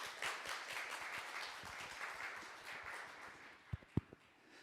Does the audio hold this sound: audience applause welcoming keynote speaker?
yes